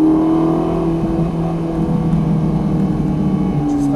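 A car engine drones loud and close throughout a track driving lesson, its steady harmonic hum holding, then shifting pitch near the end as the car accelerates, with road and cabin noise underneath.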